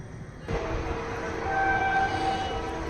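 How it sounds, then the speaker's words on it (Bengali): Trains passing near Ichapur railway station, a steady rumbling run of rail traffic with a long horn blast sounding midway, moderately close and continuous with no talk. "সামনে ইচাপুর স্টেশন আর দেখুন একের পর এক ট্রেনগুলো নিজের গন্তব্যস্থলে পৌঁছে যাচ্ছে বা এগোচ্ছে"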